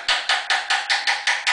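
A small hammer taps a wooden trestle table part into place: eight evenly spaced, crisp knocks in a steady rhythm, close and clear with nothing else audible.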